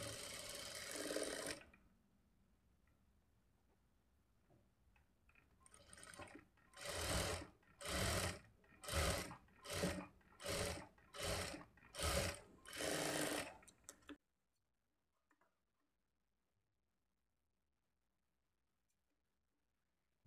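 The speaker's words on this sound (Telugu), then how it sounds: "ఇప్పుడు ఇదే స్టిచ్ మీద రెండవ స్టిచ్ వేసుకోవాలి" Sewing machine stitching a lined blouse in a series of short, loud bursts with brief pauses between them, after an opening burst and a quiet stretch, then falling to near silence.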